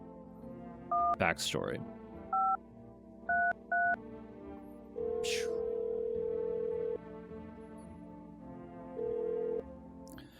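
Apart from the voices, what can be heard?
telephone dialing tones in video game No, I'm Not A Human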